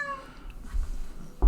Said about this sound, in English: And sorry about the cat.